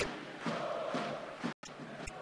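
Ice hockey crowd of 6200 fans in the Dom Sportova arena cheering after a goal, a dense sustained roar with swelling shouts and a brief dropout near the end.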